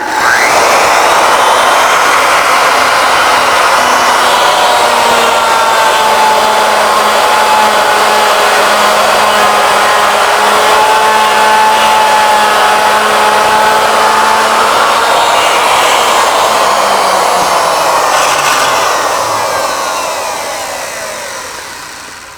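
A router on a Legacy ornamental mill cuts into wood, fed in from the side rather than plunged, giving a loud, steady high whine that holds for about twenty seconds before tapering off as the cut ends.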